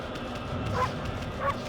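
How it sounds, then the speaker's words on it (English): A wolf character in Okami HD barks twice, short yipping calls spaced well apart over quiet game ambience. "I can bark on command."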